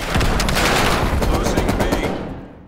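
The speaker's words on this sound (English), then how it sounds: "Hostile sentry turret active." A hostile sentry turret fires in Call of Duty: Black Ops Cold War as one loud, continuous automatic burst that fades out at the end.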